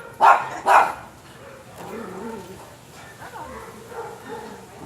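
Two sharp, loud barks from a nearby dog open the stretch, followed by quieter background sounds and faint talk from people nearby.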